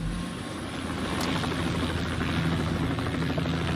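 Helicopter rotor thrum in the video game Hitman 2 drones steadily and loudly throughout, a constant low mechanical rumble with no pauses.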